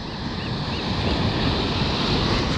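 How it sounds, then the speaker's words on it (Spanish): Ocean waves break on a beach in a loud, continuous wash of surf with wind noise, and no voices are heard. "the waves are getting bigger and bigger"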